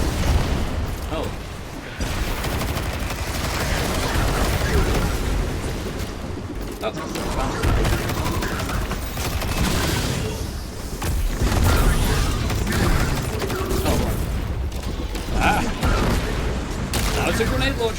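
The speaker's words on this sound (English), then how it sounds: "Now it's a grenade launcher!" Heavy explosive weapon fire and booming blasts from a grenade launcher in the shooter game Destiny 2, sustained and loud throughout, with someone talking over the action.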